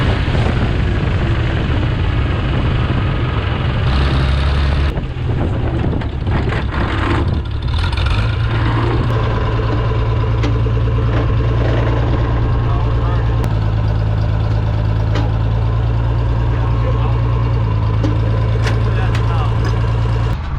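A 1960s gas engine tractor rumbles loudly and continuously close by, a steady low drone with shifting tones as it idles and changes load, with talk underneath.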